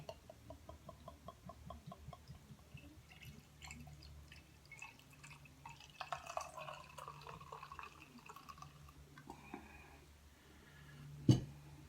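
Pumpkin ale is poured into a glass, a soft steady trickle and dripping with faint fizzing, quiet and close, ending in a sudden clunk.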